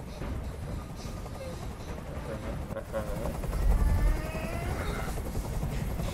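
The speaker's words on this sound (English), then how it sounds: "I can't stand that noise anymore. Tell that helicopter to get out of here." A helicopter in the video game Detroit: Become Human thrums as a low, steady rotor rumble beneath a noisy game scene, swelling briefly louder midway, with voices speaking over it.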